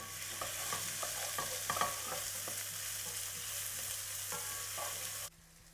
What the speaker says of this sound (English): and then we add the onions this is going to take around uh, 7 to 8 minutes to get lightly golden.